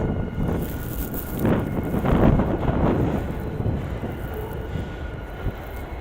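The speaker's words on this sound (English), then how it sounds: "It is incredibly windy out here." Strong wind gusting across the Coney Island boardwalk in New York, buffeting the microphone with a loud, rumbling roar that swells and eases over several seconds, with no speech.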